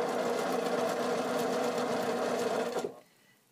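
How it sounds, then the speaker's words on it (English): A sewing machine runs steadily as it stitches a quarter-inch quilting seam, a close, continuous whirring hum that holds for nearly three seconds and then stops abruptly into near silence. "When you sew with your very accurate 1/4 inch"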